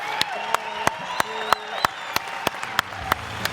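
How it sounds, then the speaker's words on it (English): An audience claps in appreciation for doctors, with sharp, evenly spaced claps sounding loud and close over a murmuring crowd. "can we please give them a round of applause"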